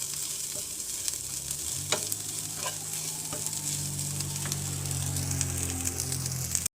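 Dried shrimp fry in hot oil, giving a steady close sizzle with the scrape of stirring and a few sharp clicks, before cutting off abruptly at the end.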